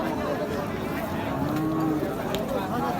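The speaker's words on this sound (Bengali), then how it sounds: "এটা লোডের গরু।" A cow offered for sale for Qurbani at a cattle market lets out a drawn, low moo in the middle of the clip. Background crowd noise and chatter run throughout.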